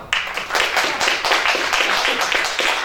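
A crowd claps steadily for Frank during a Spanish-language talk show, dense continuous applause filling the room with a faint voice underneath.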